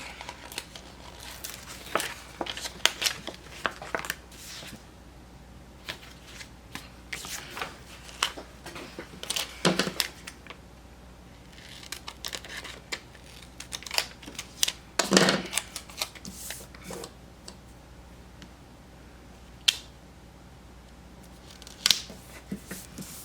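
Scissors snip through paper for a planner spread, giving scattered sharp cuts and crisp crinkles, close and intermittent, with quiet handling noises between bursts.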